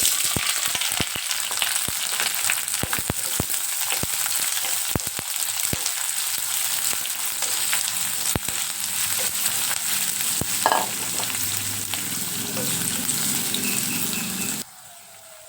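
Thinly sliced onions sizzle and fry steadily in a pan while cooking tomato rice, with occasional stirring clicks and scrapes, close and continuous until the frying stops abruptly near the end.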